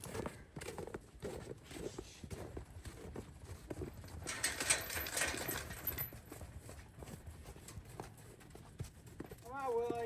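About seventeen horses walk in from turnout on a farm, their hooves clip-clopping in a steady irregular rhythm on hard ground, with people calling to them throughout.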